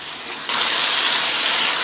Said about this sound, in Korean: 센 불로 볶는 거예요.